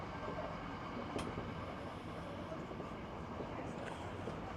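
A train running at speed in Japan, heard from inside a carriage as a steady, loud broadband rumble and rattle with no clear pauses, with a brief sharp screech partway through.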